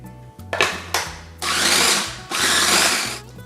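A food processor blitzing bread, garlic and herbs into breadcrumbs, with loud bursts of whirring motor separated by brief pauses, close up.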